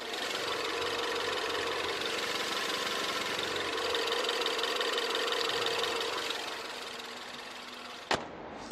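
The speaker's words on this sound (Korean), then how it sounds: "이렇게 토로스 차량의 엔진 소리 들어보기 위해서 본네트까지 시원하게 개방까지 해봤습니다" A Ford Taurus engine idling steadily up close with the hood open, a continuous loud rumble and whir that eases slightly near the end, followed by a single sharp click.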